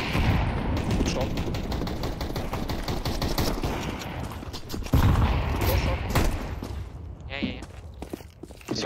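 Gunfire on Dust2 in Counter-Strike 2 during a ranked FACEIT match, with rapid bursts of shots and footsteps over most of the stretch, while players call out under the action.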